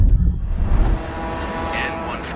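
A light single-engine propeller plane in Microsoft Flight Simulator 2024 revving up, its loud low engine drone rising in pitch as someone speaks briefly over it at the start.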